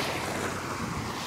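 Ocean waves washing against the shore at Hiroshima, a steady broadband wash of surf mixed with gusts of wind buffeting the microphone, continuous and fairly close with no voices.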